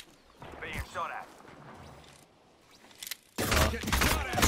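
Gunfire in a shooter video game, short bursts of shots and a louder volley near the end, with a player talking over the action.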